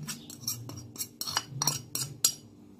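A spoon clinks and scrapes against a bowl while two spoonfuls of tahini go into mashed eggplant for baba ghanoush, a quick series of close, light metallic taps with no talking.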